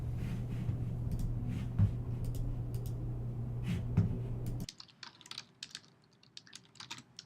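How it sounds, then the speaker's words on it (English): Keys on a computer keyboard tapped out in quick irregular bursts while a search is typed, close and clear over a steady low hum that cuts out partway, leaving sparser clicks in near silence. "So we type in Naperville Plumber."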